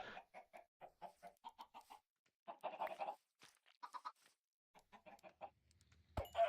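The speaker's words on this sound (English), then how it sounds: "chickens, stop escaping!" Quick, soft runs of chicken clucks come from escaping chickens in a blocky survival video game, the short pecking bursts repeated in clusters, faint and with no talk over them.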